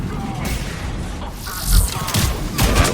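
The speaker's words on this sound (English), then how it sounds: "Look at all these explosions. Fire explosion, tech burst, fire explosion." Video game explosions, fire blasts and a tech burst, roll out as a dense run of booms and crashes with rising bursts, loud and busy, one after another without pause.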